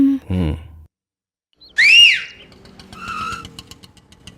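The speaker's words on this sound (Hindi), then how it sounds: "ऑटो वाले को कैसे बुलाया? सीटी बजाकर।" A single sharp human whistle, rising then falling in pitch, hails an auto-rickshaw on a street. Brief clatter comes before a short silence, and a faint rattling engine and traffic follow.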